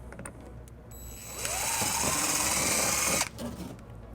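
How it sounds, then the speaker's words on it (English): A power drill bores the first hole for a wiring harness mounting bracket on a 2017 Lexus RX350: a few light taps, then a close, steady whirring drone for about two seconds before it stops, followed by soft handling clicks. "First we'll line it up and then we'll drill our first hole."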